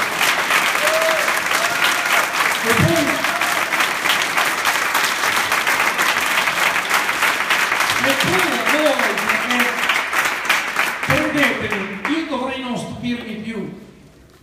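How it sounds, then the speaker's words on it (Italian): A conference audience applauds in loud, sustained clapping that fills the room and fades out at the end, with someone speaking over it. "Io vorrei fare sì che questo applauso arrivasse a tutti loro."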